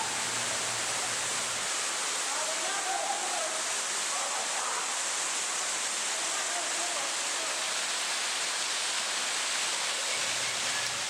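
Steady broadband rush of a waterfall in a canyon near Springdale, Utah, a constant wash of falling water filling the scene with no breaks, with faint voices briefly audible underneath.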